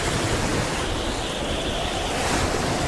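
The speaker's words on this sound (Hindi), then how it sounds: "ये तो बड़ा ही जोरदार तूफान है।" Stormy sea waves in an animated show roar as a steady, loud wash of surf and wind, unbroken and without any voices.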